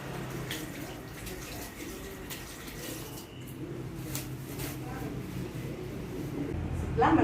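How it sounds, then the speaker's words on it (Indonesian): A tap runs steadily into a sink as hands are washed with soap, making a continuous wash of water at moderate loudness, with a brief louder splash near the end. "pakai sabun dan air mengalir."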